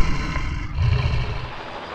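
A helicopter lifts 400-kilogram crates of cranberries from a field onto the back of a lorry. Its steady, loud low rotor rumble and broad engine roar run throughout, swelling briefly near the middle.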